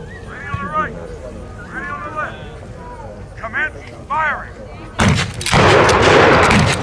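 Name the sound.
WWII shotgun firing blanks with slam fire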